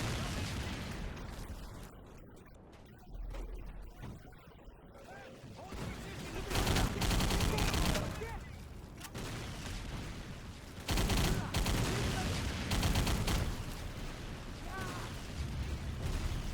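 Gunfire in the Battle for the Pacific video game on Xbox 360, set on Wake Island: loud, dense bursts of shots and blasts come in waves with brief lulls, and some voices are heard in the mix.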